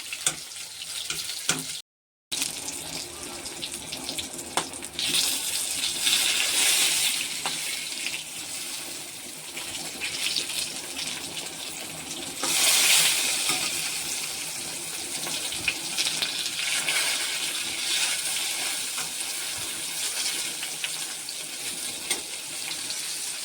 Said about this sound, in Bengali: পটলগুলো ভালো করে একটু এপিট ওপিট করে ভেজে নেবো